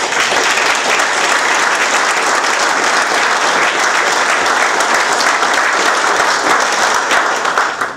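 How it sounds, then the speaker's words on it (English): A crowd at a political dinner breaks into loud, dense applause that holds steady for several seconds before tapering off at the end. "your entire party deserves a round of applause"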